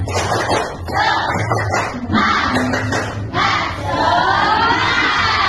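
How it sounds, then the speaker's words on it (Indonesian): Schoolchildren in a classroom performing a rhythmic spirit clap, loud patterned clapping in bursts mixed with energetic shouting and chanting, fairly close and filling the room. "Tepuk semangat."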